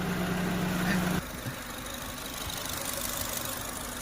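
Honda car engine idling in a workshop with a fault noise, a steady hum with a low droning tone for the first second, then a rougher, lighter running sound with faint knocking, fairly close and with no talk.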